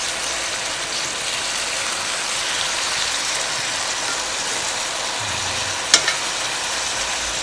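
Chicken thighs pan-searing in a pan, a steady broadband sizzle throughout, with one sharp click partway through.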